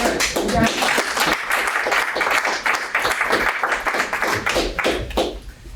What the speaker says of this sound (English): Round of applause for our principals.